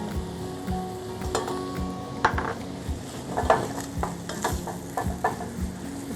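Mushrooms, black beans and tomatoes sizzle and fry in a pan, with a steady crackle broken by repeated scraping stirs and clinks of a utensil against the pan; close, moderately loud and continuous, no talking.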